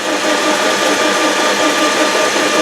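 A compact rotary broach from a Hemingway kit is cranked into metal, giving a steady, dense machining whir with constant loudness and no pauses.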